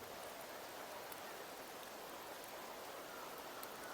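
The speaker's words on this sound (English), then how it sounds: "The rains in Septimont never seem eager to leave this season" Rain falls in Septimont in a video game, a faint, steady hiss of drops on surfaces that continues evenly with no voices.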